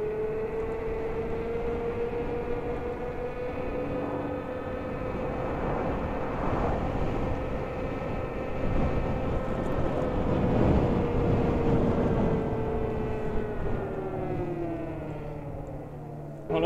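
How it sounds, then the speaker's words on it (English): A low-flying airplane roars overhead, its engine drone swelling louder toward the middle, then slowly receding against a steady rushing background of wind rushing past a scooter rider travelling at 40 mph. "it was an airplane flying low as can be"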